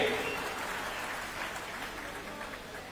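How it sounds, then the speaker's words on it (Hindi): An audience at a community gathering in India applauding, a continuous wash of dense clapping heard at moderate distance, staying steady and slightly fading, with no clear talking. "जोरदार तालियां होना चाहिए।"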